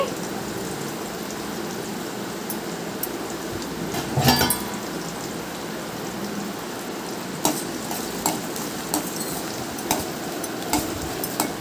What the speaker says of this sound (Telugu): పచ్చిమిర్చి చీలికలు వేసుకున్నాక గరిటతో కలియబెట్టుకోవాలండి